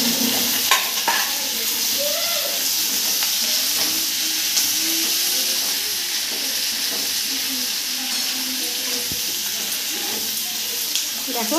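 Capsicum, onion and tomato stir-frying in a pan for chilli chicken, a close, steady sizzle with scraping and stirring throughout, and a faint voice briefly in the background.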